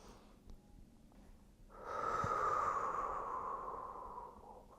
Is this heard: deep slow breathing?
yes